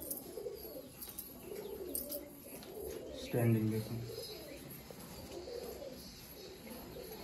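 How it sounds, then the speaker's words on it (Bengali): Female Andhra red-headed pigeon, a short-sized adult bird offered for sale, gives a low cooing call near the middle, under ongoing speech and market background noise. "এটা মাদি পায়রা আছে, অন্ধ্রা লালশিরা মাদি"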